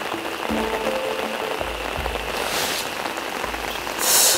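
Steady rain patters continuously on surfaces at a valley-type reservoir pond on a windless night, a dense even hiss with occasional heavier bursts of drops, close by and without any voices.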